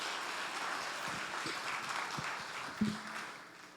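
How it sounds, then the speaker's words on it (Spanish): Church congregation applauding during a Sunday service, a steady wash of clapping with a few louder individual claps standing out and a brief stronger burst near the end before it thins out. "Denle un aplauso fuerte al Señor."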